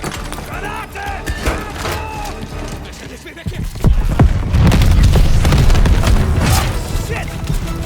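A grenade blast in the World War II shooter Call of Duty: Vanguard, a deep boom rolling in midway through busy combat noise and shouted voices, loud and close.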